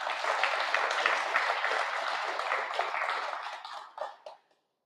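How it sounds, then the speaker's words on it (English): Audience applause at a community fire information meeting for the Middle Fork Fire, a dense patter of clapping holding steady for several seconds before fading out in a few scattered claps. "So give yourselves a round of applause for participating"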